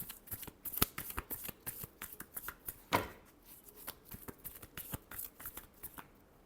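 Tarot cards being shuffled by hand, a rapid series of crisp riffling snaps and soft slaps close to the listener, with a brief louder flurry midway and no talking.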